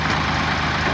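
A tractor engine running steadily as it lifts a trolley, a close, continuous low idling drone with no pauses and no voices.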